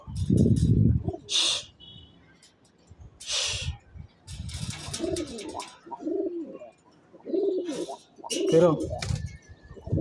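Pigeons coo in low, rolling bursts through the clip as they are released from a rooftop loft, with a few wing flaps and a voice speaking intermittently over them.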